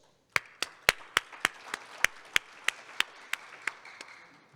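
A small audience at a business forum on Africa gives a sparse round of applause: about a dozen distinct, fairly close hand claps in an uneven rhythm over quiet room noise, with no speech.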